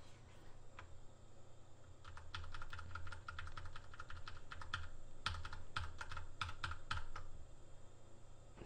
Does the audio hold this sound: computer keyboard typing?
yes